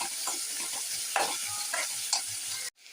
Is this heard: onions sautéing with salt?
yes